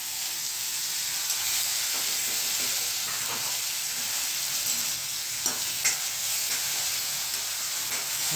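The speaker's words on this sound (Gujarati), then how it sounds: "બધા મસાલા થઈ જશે ને મસાલા તમે તેલમાં ફ્રાય કરો ને તો મસાલામાં સ્વાદ આવે" Spices with asafoetida sizzle and fry in hot oil, a steady bright hiss with faint stirring scrapes throughout, close and continuous with no talking.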